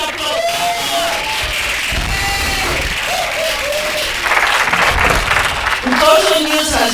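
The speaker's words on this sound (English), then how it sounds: "Can we give them huge applause?" An audience at a child participation consultative meeting breaks into loud applause and cheering, with scattered whoops and shouted voices over the clapping.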